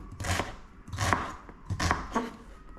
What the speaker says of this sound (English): I love onions, so if you like me, you cut it that way, look, on the bias.